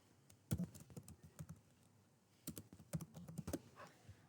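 Keys clatter on a computer keyboard as a title is typed into a web form, coming in two quick bursts of close, crisp keystrokes separated by a short pause, with no voices.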